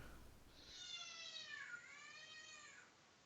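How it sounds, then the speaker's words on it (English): A cat meows in a long drawn-out wail in the background, the harmonic cry rising and falling over about two seconds, moderately loud against a quiet noisy room with no talk. "what is going on in the background right now? I'm hearing a cat."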